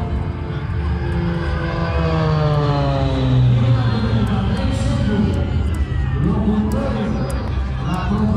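A Kamov Ka-26 twin-rotor helicopter flies at an airshow, its engine and rotors droning loudly and steadily with a slowly shifting pitch, while voices are faintly audible beneath it.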